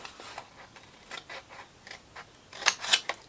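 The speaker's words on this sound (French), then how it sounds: "évidemment, on va couper sur la ligne" Scissors snip through a sheet of A4 paper along a diagonal line, a series of short crisp cuts at an uneven rhythm that build to a few louder closing snips, close and alone with no talking.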